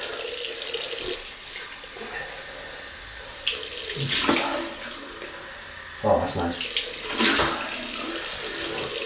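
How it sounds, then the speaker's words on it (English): Cold tap water runs steadily into a sink to rinse a FaTip Piccolo open comb double-edge razor, with louder splashing bursts as the blade passes under the stream and a brief spoken remark over it. "Cold water rinse."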